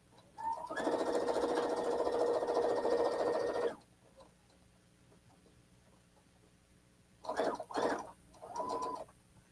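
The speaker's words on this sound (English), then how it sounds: "Now I'm just running it through my machine again to sew a 1/4-inch seam on the other side of that line." A sewing machine stitches a quarter-inch seam in a steady burst of about three seconds, close and fairly loud, followed by quiet and a few short rustling handling noises near the end.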